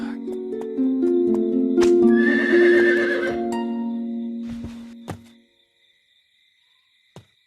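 A horse whinnies loudly with a long, wavering neigh that rises then fades out, followed by a couple of faint knocks in near silence.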